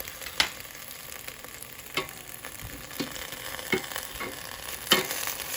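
Tomatillos and garlic sizzling in an air fryer, a steady faint frying hiss broken by several sharp pops, close and alone.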